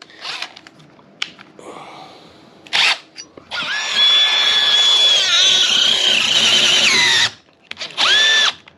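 Power drill boring into a wooden staircase newel post and grinding through buried screws and nails, short revving bursts and then a long loud whining run with squealing metal contact, close up and without talk.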